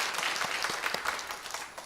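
A church congregation claps together during a Sunday worship service, a quick rhythmic patter of many hands sustained briefly and fairly close.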